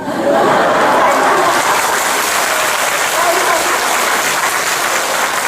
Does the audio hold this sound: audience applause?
yes